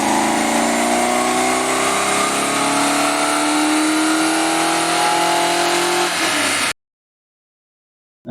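Rover SD1 with a TVR V8 engine on a rolling road dyno, revving hard in one long rising pull that roars loudly, then cuts off abruptly into silence.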